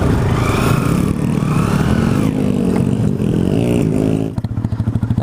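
A motorcycle engine revs hard on a steep trail climb at Dicamay, Echague, a loud strained roar that rises and falls, then drops to a rough, pulsing idle near the end.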